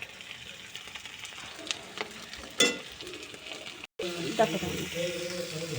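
Spices sautéed in a pan with salt, a soft continuous sizzle with occasional stirring clatters, then a brief cut and a louder fresher sizzle after more water goes in, with a voice speaking over it.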